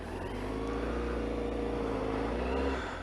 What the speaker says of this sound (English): It's got a little flutter on those lower revs, just a little flutter.